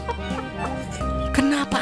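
A chicken clucks close by in short, nasal bursts beside a person eating spicy Samyang noodles, with background noise throughout.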